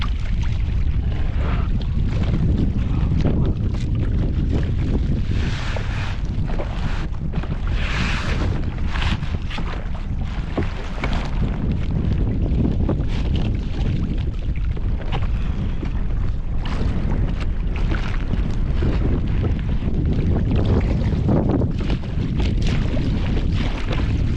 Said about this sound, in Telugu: గాలి అయితే వస్తుంది